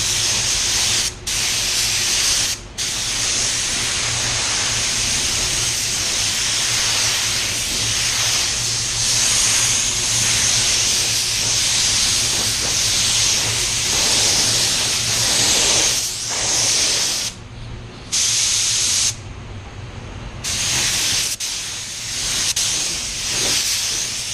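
A spray gun lays clear coat onto raw plastic in long, loud hissing passes, broken by a few short pauses between bursts.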